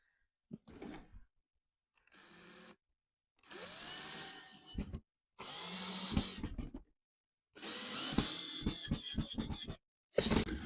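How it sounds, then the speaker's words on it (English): A power drill drives a screw into thrifted furniture in several separate whirring bursts, each a second or so long, close and clear, with silent gaps between them. "I'm just going to put a screw in to tighten this up"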